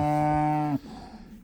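A cow gives one long, loud, close moo that cuts off sharply, followed by quieter farmyard background, with no talk.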